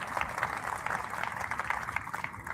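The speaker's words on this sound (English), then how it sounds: "let's give that a round of applause." A steady round of applause from an audience at a Salesforce Connections 2026 opening keynote, heard at a watch party. The dense patter of clapping continues fairly evenly throughout, somewhat distant and soft.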